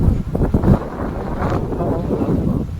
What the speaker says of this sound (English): It's windy today. It is very windy.